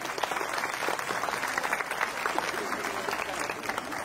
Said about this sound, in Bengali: তার জন্য একবার জোরে হাততালি হয়ে যাক